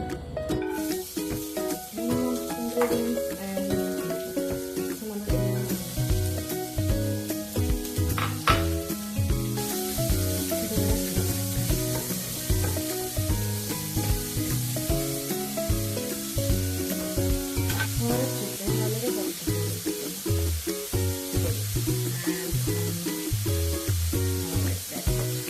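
Sliced carrots frying in a pan for a Kerala-style carrot mezhukkupuratti, a steady loud sizzle with stirring scrapes throughout, no voices, over background music.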